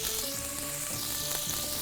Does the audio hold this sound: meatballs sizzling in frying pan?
yes